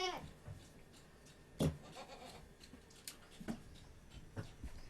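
Dairy goats in a rural backcountry goat-raising setting bleat several times at moderate distance, a few short calls spaced apart against faint background noise.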